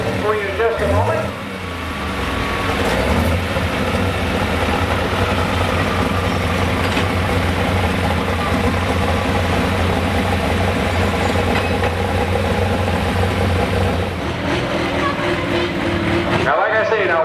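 A Lucas Oil super/pro stock pulling tractor idles at a tractor pull in La Plata, a loud steady low engine drone that holds evenly with a faint shift near the end, while an announcer talks over it.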